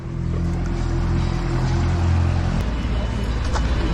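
A loud, steady boat engine drones and rumbles close by on a river crossing between Bolivia and Brazil, its low throb shifting partway through before settling.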